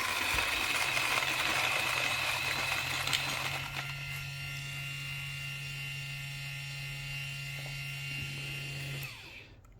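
A portable Wirsh electric grinder whirs steadily as it grinds a small load of coffee beans at a coarse setting, a continuous close motor hum that shifts pitch partway through and cuts off near the end.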